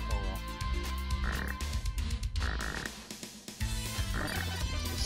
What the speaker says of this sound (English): The frogs, toads, whatever you want to call them, they are the biggest threat.